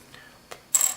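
A small Graphtech Tusq guitar nut is dropped onto a hard surface, making a couple of faint ticks followed by one bright, sharp clack, close up and alone.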